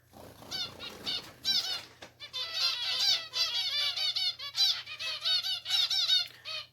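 Several pet birds in a new custom-built cage, calling loudly in rapid, repeated squawks and chirps with wing flutters, close by and continuous, without any talking.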